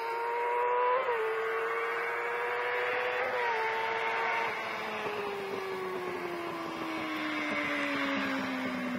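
A Kawasaki ZX-6R sport bike screams past at high speed, its high-revving engine whine dropping in pitch through gear changes as it passes and fades into the distance.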